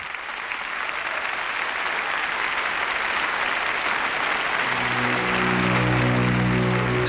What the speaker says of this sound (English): The clapping would go on for so long that finally bells were used to call for an end to the